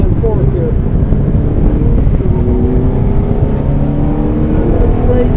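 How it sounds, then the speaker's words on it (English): A Fiat car engine revs out hard in third gear, a loud, steady drone with rising engine tones under heavy wind buffeting. "Give it a good rev out in third gear."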